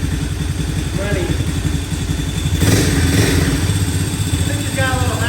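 A beat-up Honda ATV engine idling with a steady, loud chugging rumble close by, then revving up and settling back to a rough idle, with people talking over it.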